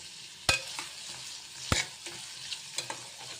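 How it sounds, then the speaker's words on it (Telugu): Carrot and radish pieces frying in a pan, a soft continuous sizzle punctuated by a few sharp spatula knocks and stirring scrapes, close and alone. "ఈ విధంగా దోరగా వేయించుకుందాం."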